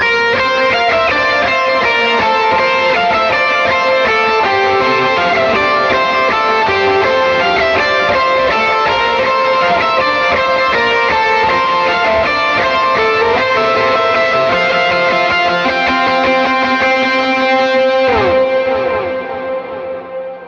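Heavily distorted electric guitar plays a sustained melodic lead part from a song, drenched in echoing stereo delay and big cloud-like reverb, loud and continuous before the notes ring out at the end.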